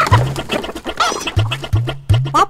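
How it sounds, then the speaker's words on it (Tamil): Rooster clucking in a short run of sharp, repeated low calls, close and fairly loud, with bird chatter between the clucks. "என்னது சேவல் பேரு பாப்பாவா?"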